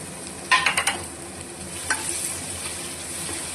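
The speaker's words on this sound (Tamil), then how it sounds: "நல்லா வதக்கி விட்டுடலாம்." Ground shallots sautéing in a pan for mutton biryani: a quick run of sharp spatula scrapes and clinks over a constant sizzle, then one more knock, no talking.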